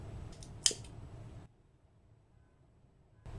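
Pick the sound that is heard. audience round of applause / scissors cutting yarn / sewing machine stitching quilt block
scissors cutting yarn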